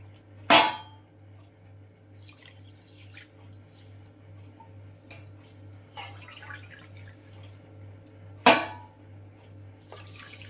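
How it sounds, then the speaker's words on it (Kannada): Water is poured from a cup into three cups of sugar in a pan for badusha syrup, giving short splashing bursts with sharp clinks of utensils in a quiet kitchen with a low hum. "ಈ ಮೂರು ಕಪ್ ಸಕ್ಕರೆಗೆ ಎರಡು ಕಪ್ಪಷ್ಟು ನೀರು ಸೇರಿಸ್ಕೊಳ್ಳೋಣ"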